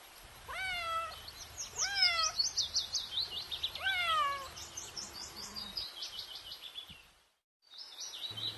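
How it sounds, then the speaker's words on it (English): A cat meows repeatedly, clear and fairly close, with bright birdsong chirping continuously in the background. "C for cat"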